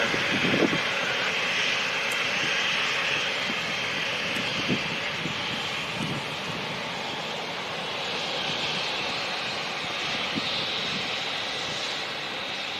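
Airliner engines hum and whine steadily at London City Airport as a jet lines up for departure, a continuous mid-distance roar with faint outdoor background and no talk.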